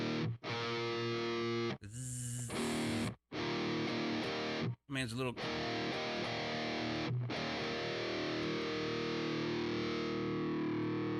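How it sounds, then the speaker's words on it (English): Rock guitar with fuzz distortion dialed in on a Behringer Wing mixer, sustained buzzing chords broken by short gaps, with someone briefly speaking. "I don't want this in my sound. The fuzz."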